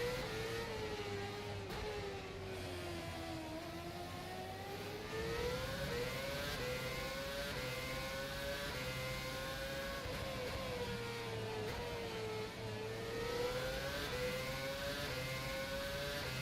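Race car in rFactor 2 lapping the Singapore street circuit, a steady engine note rising and falling through gear changes and corners, loud and continuous with no talk.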